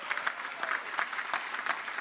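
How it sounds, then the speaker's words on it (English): A university graduation crowd applauding, dense steady clapping from many hands across a large hall, continuous and fairly loud throughout. "So give a round of applause for them as well."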